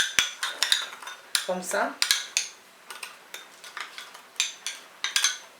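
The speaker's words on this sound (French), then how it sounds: "On va mélanger ça bien même." A spoon stirs an aloe vera foot scrub mixture in a bowl, making a steady series of bright clinks and scrapes against the sides; a voice speaks briefly at the start.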